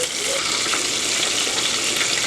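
Butter melting in a hot pan gives a steady, close, crackling sizzle that holds at an even level throughout.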